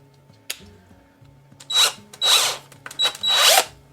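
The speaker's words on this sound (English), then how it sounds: "we just need to screw in the bracket" A power drill drives a screw to fix a wall bracket for a green wall of Wally Grow planter pots, in several short, loud whirring bursts close by after a faint tap.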